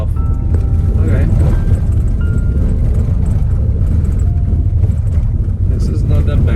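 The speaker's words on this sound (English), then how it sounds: "I'm talking about the noise of the car itself." A Tesla Model Y driving off-road gives a steady, loud low rumble of road and cabin noise that continues unbroken throughout.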